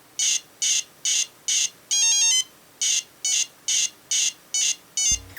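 A handheld electronic Pac-Man game plays chirpy beeps that repeat in a steady pulse of short bleeps, with one warbling melodic burst midway, bright and loud with no voices.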